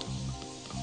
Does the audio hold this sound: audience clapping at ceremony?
no